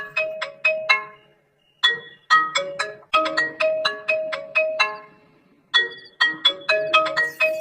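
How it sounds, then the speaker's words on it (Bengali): A mobile phone ringtone plays a bright, chiming melody in repeated bursts with short pauses between phrases, loud and close. "কে আবার ফোন করলো মোবাইলটাতে? দেখি কে ফোন করলো।"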